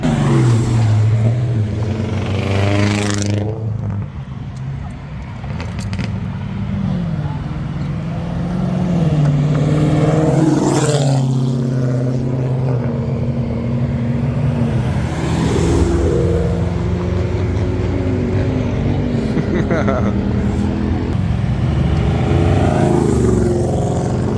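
Chevrolet Corvette C8 driven at speed, its engine a loud, close, continuous roar that rises and falls through gear changes as it passes, with steady road and wind noise throughout.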